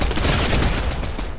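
Gunfire in a first-person shooter video game, a steady burst of rapid shots that fills the short moment at close range.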